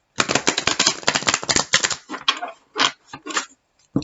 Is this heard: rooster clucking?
no